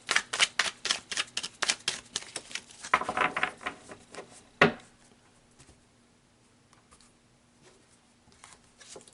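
A tarot deck being shuffled and cards pulled, with rapid riffling flutters and soft slaps in quick bursts, a sharp snap, then quiet faint card handling, close and alone.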